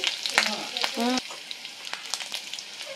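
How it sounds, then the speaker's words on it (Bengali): Chopped garlic sizzles in plenty of hot oil with five-spice seeds and slit green chillies, a steady close crackling hiss with a few brief tonal squeaks and soft knocks. "রসুনটা ভালোভাবে ভাজা হয়ে গেল"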